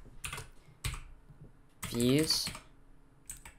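A few short bursts of computer keyboard typing while someone speaks over them, the clicks fairly close and soft between his words.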